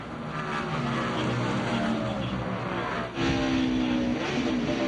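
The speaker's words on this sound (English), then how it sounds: "listen to that truck as they go over that curve, just pounding that curve." A loud, steady roar of a NASCAR Craftsman racing truck engine on board at Portland, with a brief dip and a rough jolt as it thumps over a curb.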